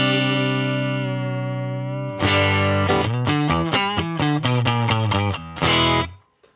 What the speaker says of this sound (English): Now a bit of delay that I have switch on and off now and again.